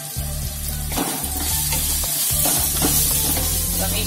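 A spoon stirs turmeric and red chili powder into a sizzling pan of spices for a Maharashtrian broad bean dish, making a loud, steady fry with repeated scraping strokes and low rumbling under it and no voices.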